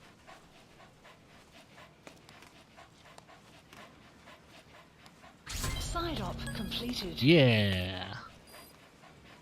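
Dog panting heard in the game Metal Gear Solid V, rapid breathy pants that start abruptly after a few seconds of quiet game ambience and swell loud at the end, with brief talk beforehand.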